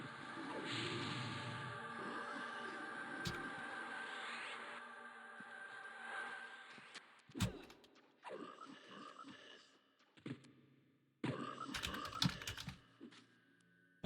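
A clicky mechanical keyboard is typed on in fast bursts of crisp clacks while chaining spells in a game, steady at first, then broken into separate flurries with short pauses.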